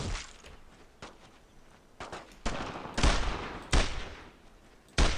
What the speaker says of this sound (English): Yeah, just laying down, suppressing fire.